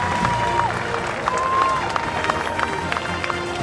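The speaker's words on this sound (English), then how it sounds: "And that wakes up the Oakmont crowd." Large golf gallery at Oakmont cheering and applauding during the 2007 U.S. Open finish, a sustained roar of clapping and shouts with a commentator talking over it.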